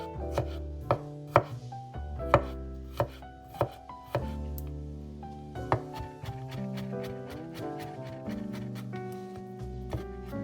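Smashed garlic cloves being chopped with a knife on a cutting board, a run of sharp, irregular taps and thuds at close range over background music.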